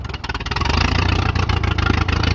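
An Allis-Chalmers WD forklift engine in need of a tune-up, with a struggling carburetor, runs steadily and loud up close, its rough, pulsing idle filling the whole stretch.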